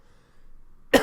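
A single short, sharp cough bursts out at the end after near silence, close and fairly loud.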